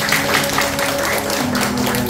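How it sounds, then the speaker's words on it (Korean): Children clapping together at a church puppet show, a steady dense patter of applause filling the room for a couple of seconds, with faint voices underneath. "다 같이 박수!"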